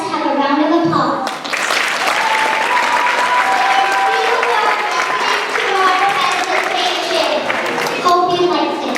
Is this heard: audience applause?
yes